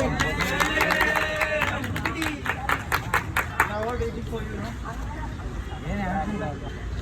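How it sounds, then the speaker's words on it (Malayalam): Guests clapping at a birthday celebration, a steady run of claps from a small crowd under continuous chatter and a speaking voice, the clapping rising midway and fading back into talk. "എല്ലാവരും കൈയടിച്ചേ."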